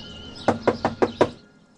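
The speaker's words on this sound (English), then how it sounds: "Knock?" Five quick, evenly spaced knocks rap on a door, sharp and close, followed by a brief fade into quiet.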